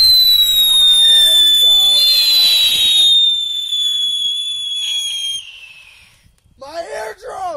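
A fountain firework going off nearby, hissing and whistling steadily for several seconds before dying away, with people shouting and screaming over it and a final burst of excited yelling.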